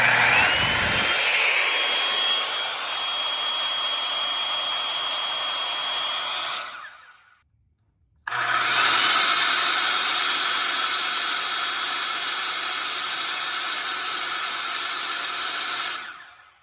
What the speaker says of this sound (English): The first test I did was on my professional DeWalt circular saw.